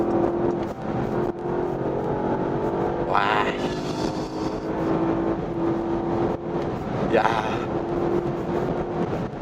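Porsche Panamera Turbo S E-Hybrid with the sport exhaust active in Sport Plus mode, a steady engine drone and road roar from inside the cabin, rising in two brief revving sweeps, with short exclamations from occupants.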